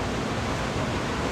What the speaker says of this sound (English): You can hear the washer and the dryer going on in the background.